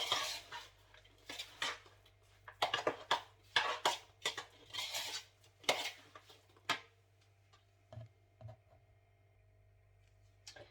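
Minced meat filling for meatballs mixed with a utensil in a bowl, giving a run of clinking, scraping bursts in uneven rhythm, close and fairly loud, easing into a few sparse taps near the end.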